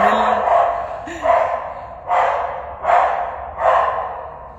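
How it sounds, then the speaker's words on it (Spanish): Dogs barking beside an elevator near a door in a building, about five loud rhythmic barks spaced roughly a second apart, close by and heard alone. "hay unos perros ahí aquí al lado, junto al ascensor, junto a la puerta, que están ladrando"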